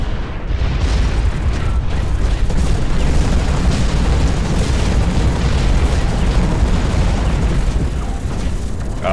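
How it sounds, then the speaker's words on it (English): Gunfire pounds the player's mech in the video game Hawken as a dense, continuous barrage of heavy, rumbling impacts and bursts, loud and close for the whole stretch. "Oh god, I'm being shot at."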